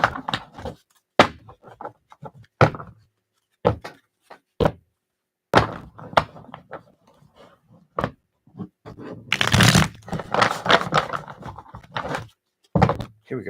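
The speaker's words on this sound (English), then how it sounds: "A couple more shuffles." Tarot cards are shuffled by hand, giving sharp, irregular riffles, taps and thumps that come in short bursts with quiet gaps, close and fairly faint.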